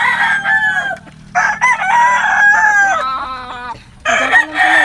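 Chickens and a rooster on a farm: a loud, close rooster crow repeats in long drawn-out calls, mixed with hens clucking, with no talk.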